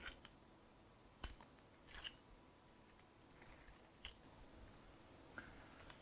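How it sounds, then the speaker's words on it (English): Pieces of tape being peeled off a card, heard as faint close crackling rips and small sharp bursts against quiet background. "you just peel off the pieces of tape. This one doesn't want to come"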